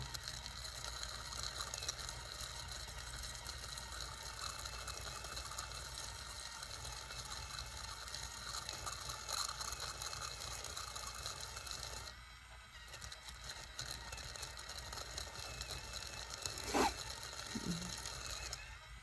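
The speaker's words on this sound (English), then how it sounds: "The trick to the bead spinner is to have enough beads in it and to learn to hold the needle." A Bead Act bead spinner whirring steadily with beads inside, making a continuous mechanical rattling hum that dips briefly and then resumes.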